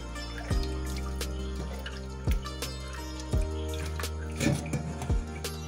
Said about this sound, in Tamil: தண்ணியை வடிகட்டி இப்படி வச்சிடணும்